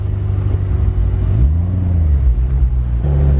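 Car engine rumbling deeply as it first moves off, a heavy low idle that rises briefly with throttle and then settles, loud and close.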